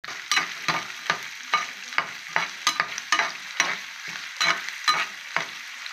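Country onions frying with cashews, curry leaves and dried chillies for hotel-style bisi bele bath, heard as a steady sizzle under a regular rhythm of spatula scrapes and stirs, close up, with no talking.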